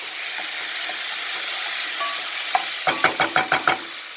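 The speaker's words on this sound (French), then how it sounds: "Nous mélangeons prestement afin de déglacer les oignons comme il faut" Onions sizzle in a hot pan as they are deglazed, a steady close hiss joined near the end by a quick run of six rhythmic clacks from a utensil stirring briskly against the pan.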